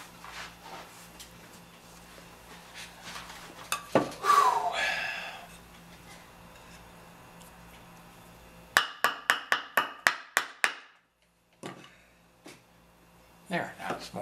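A hammer taps in a quick series of sharp, close knocks, about nine evenly spaced strikes followed by a few more after a pause, with quiet handling noise and a brief rustle earlier.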